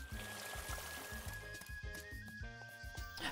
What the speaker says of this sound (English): I just tried to water my shipping bin.